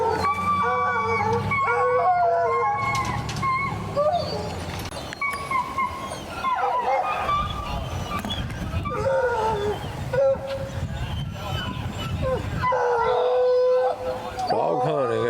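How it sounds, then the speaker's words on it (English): A pack of hunting dogs bays and howls during a dog hunt in the Florida Panhandle, many overlapping drawn-out cries and yelps at varied distances, loud and continuous, with someone talking over them at times. "Dog hunting in the Florida Panhandle."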